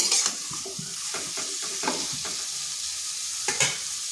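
Spices being stirred into pointed gourd (potol) in a hot pan, with a steady sizzle under repeated scraping strokes and a few sharper clinks of the utensil against the pan, no talking.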